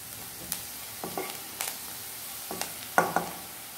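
Onions fry in a pan for Mangalore-style prawn sukka, under a soft, low sizzle broken by a handful of separate scrapes and taps as they are stirred, with one sharper clink near the end.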